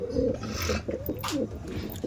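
Andhra pigeons coo in a low, wavering, throaty murmur over a faint raspy background, close by and continuous for a couple of seconds.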